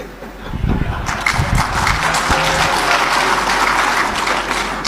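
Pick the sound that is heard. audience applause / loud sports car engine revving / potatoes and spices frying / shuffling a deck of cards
audience applause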